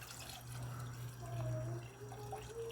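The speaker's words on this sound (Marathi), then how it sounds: "आता त्याच्यामध्ये ना आपल्याला पाणी टाकून घ्यायचं आहे" Water is poured into a cooking pot for chicken yakhni, a brief, faint trickling and splashing heard close up in a quiet kitchen.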